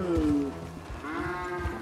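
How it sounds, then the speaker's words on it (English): An Angus bull standing in mud in Red Dead Redemption 2 lets out two deep, drawn-out moos one after the other. The lows are close and loud, with soft squelching and ambient noise beneath them. "And the damn cows are in the mud."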